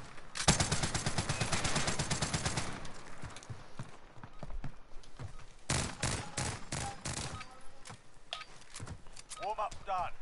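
Light machine guns firing in an online shooter video game, a dense rapid burst of gunfire at first, then scattered shorter bursts and single shots, with players talking throughout.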